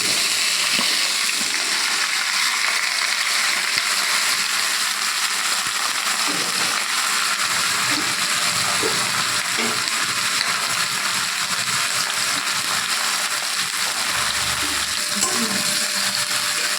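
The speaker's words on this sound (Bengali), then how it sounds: "এবার তেলের মধ্যে পাঁচফোড়ন আর আদার সাথে সবজিটা একটু ভালো করে নেড়ে নেবে" Cut vegetables stir-fry in oil with panch phoron and ginger for an ilish fish-head mixed vegetable dish, a steady loud sizzle with occasional scraping stirs, close and continuous with no talking.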